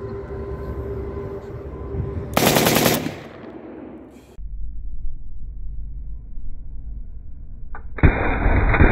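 An AMD 7.62x39 rifle fires a short, loud, harsh burst in burst mode outdoors, followed by lingering rumbling noise and a later sharp burst of sound.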